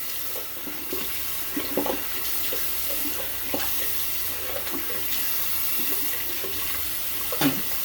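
Water runs steadily from a bathroom sink tap during shaving, a continuous close splashing hiss with small splashes and clinks scattered throughout.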